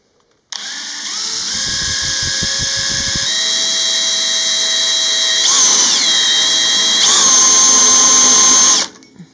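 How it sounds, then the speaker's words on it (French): A drill fitted with a cheap countersink bit countersinks into metal, whining loudly and steadily up close with a shifting pitch, briefly chattering at first, then spinning down and stopping. "On commence tout de suite par le fraisage."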